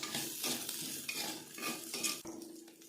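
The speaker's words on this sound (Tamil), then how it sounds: "4 வரமிளகாய் எல்லாம் போட்டு வறுத்து எடுத்துக்கலாம்." Dry red chillies rattling and sizzling in a hot pan, stirred with a spoon that scrapes and clinks against the metal, close and continuous.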